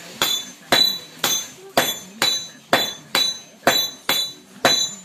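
A small hammer taps out about ten sharp, ringing strikes at an even pace of roughly two per second, close and clear with short silences between blows.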